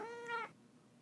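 A house cat gives one clear, fairly loud meow with a rising then falling tone, lasting about half a second before quiet room tone.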